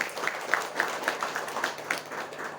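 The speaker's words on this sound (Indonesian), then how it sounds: "Kita harus tepuk tangan buat Bapak Ibu sekalian." An audience claps for the people gathered at a BKKBN deputy's visit to Kampung KB Ngalangombo. The claps come in a steady, even rhythm and sound moderately distant over a low background hum.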